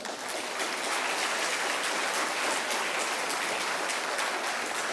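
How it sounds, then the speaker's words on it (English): Audience at a nursery school annual day claps in a dense, steady round of applause, a sustained crackling roar at moderate distance with no speech over it. "Let us start the program with a great round of applause for our children."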